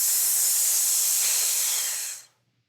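A long, steady hiss of breath pushed out through the teeth, a qigong healing sound, lasting about two seconds before stopping abruptly, close and fairly loud.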